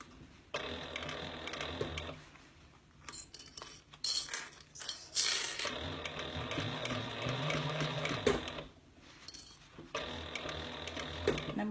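Sewing machine stitching around a round fabric bag, fast mechanical whirring bursts separated by short pauses with clicks and handling sounds, close and moderately quiet.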